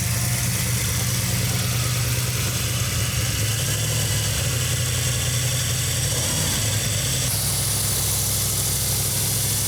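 A 1971 Plymouth 'Cuda convertible with a 340 V8 and three-speed manual idles steadily up close, a continuous low rumbling burble with even pulses and no voices over it.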